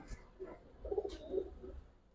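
Pigeons in a Giribaz and colour-breed loft coo softly at close range, with a few low rounded calls over a faint rustling background and no talk.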